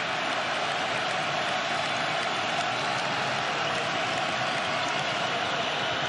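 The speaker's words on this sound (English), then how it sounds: "Crowd getting into it." Basketball arena crowd roaring continuously during a game, a loud, dense sustained wall of cheering and noise with no break.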